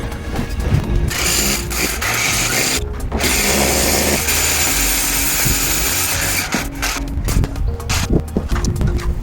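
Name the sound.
power drill drilling through brick wall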